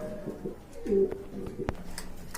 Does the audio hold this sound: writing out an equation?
no